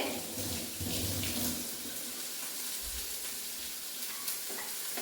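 Mezhukkupuratti, a Kerala vegetable stir-fry, being stirred in a pan: a moderate crackling sizzle with soft scraping and a brief rush like running water, no talk.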